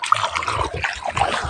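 Water trickles and gurgles steadily through a freshly dug earthen channel for irrigating a maize field, a soft continuous flow close by with no talk.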